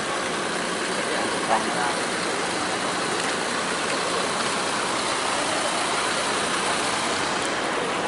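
A Makmur intercity bus pulls in among other buses lined up on the Pekanbaru–Dumai route, its engine running as a steady, broadband rumble that holds evenly throughout at moderate loudness.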